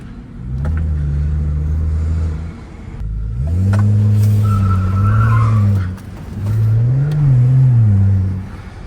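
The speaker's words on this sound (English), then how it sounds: "Yo, this car is like a race car." A Jeep Grand Cherokee Trackhawk engine revs hard in three long surges, pitch rising and wavering, loud and close with brief dips between bursts.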